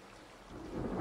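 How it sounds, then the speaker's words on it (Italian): Rain and rolling thunder in the survival game The Forest, a low rumble swelling toward the end over a steady wash of rainfall, without any voices. "Sta cominciando a piovere."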